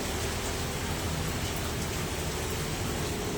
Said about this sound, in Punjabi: ਕਾਫੀ ਤੇਜ਼ ਮੀ ਪੈ ਰਿਹਾ ਹੈ